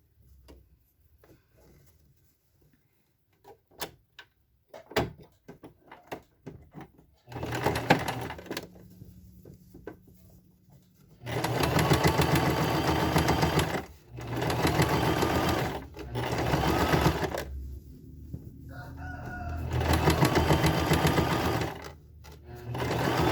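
A sewing machine stitches a seam on a pair of shorts in several loud, close bursts of rapid whirring, each running a few seconds and separated by short pauses with soft handling sounds.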